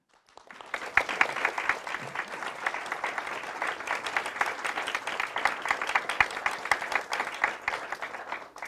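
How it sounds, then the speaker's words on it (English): An audience claps warmly for an ambassador at an institute event in Seoul, the applause rising quickly from silence into a steady patter of many hands in a moderate-sized room, individual claps standing out. "please give a warm round of applause to Ambassador Yoon Sun-gu"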